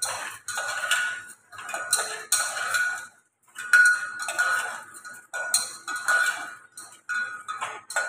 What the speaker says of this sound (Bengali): প্রেসার কুকারে আমি একটু নেড়ে নিচ্ছি ডালগুলোকে।